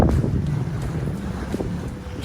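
A sailboat under way in a good afternoon breeze off a tree-lined coast, with steady wind rush across the microphone and low water wash against the hull, continuous and close.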